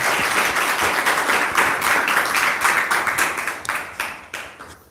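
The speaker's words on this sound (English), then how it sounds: "give a big applause, please" An audience at an Islamic boarding school speech gathering breaks into steady, dense applause, loud and close, continuing evenly before tapering slightly toward the end.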